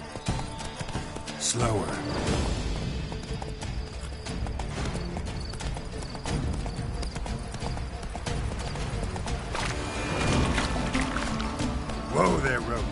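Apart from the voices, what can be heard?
horse Roach galloping in The Witcher 3 video game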